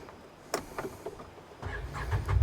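The Rotax engine of a Can-Am Defender Pro HD10 UTV starting up close: a few clicks and a short whir, then the engine catches and settles into a steady, loud low rumble. No talking.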